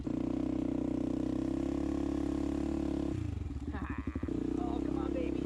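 An ATV engine idles and rumbles with a steady, loud throb on ice and snow-covered ground, then the tone shifts as the throttle changes and the machine clatters before settling back into a steady drone; a voice speaks briefly.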